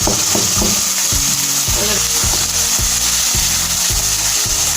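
Minced meat with peas fries in a pan, a continuous loud sizzle under repeated rhythmic scraping strokes of a spoon stirring the mixture.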